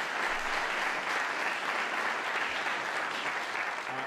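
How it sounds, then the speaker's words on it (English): An audience at a NASCAR champion's welcome event applauds steadily, a dense sustained wash of clapping from many hands that stays loud and even throughout, with no voices standing out. "Give him a big round of applause."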